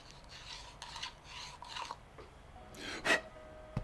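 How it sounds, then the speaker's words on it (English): Acrylic tubing is deburred by hand with short scraping and rasping strokes, several quiet rubs in a loose rhythm followed by one sharper, louder scrape near the end, close up with no talking. "Let's get rid of some of those burrs."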